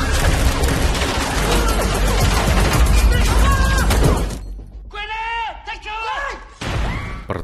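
Dense, loud gunfire from a war film firefight roars continuously as both sides shoot, then breaks off and leaves a more broken mix of blasts and crashes, all under an overlying narrating voice.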